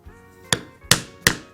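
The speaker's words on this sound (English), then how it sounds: "then I will punch the proper size hole" Three sharp, loud strikes of a hammer on a leather hole punch, cutting a snap hole in leather, spaced evenly about a third of a second apart with nothing between them.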